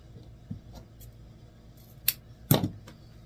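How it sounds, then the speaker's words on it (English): Scissors snip satin ribbon at an angle for a mesh candy corn wreath, giving a few sharp, close clicks and cuts, the loudest near the end, against a quiet room. "I'm just going to cut at an angle."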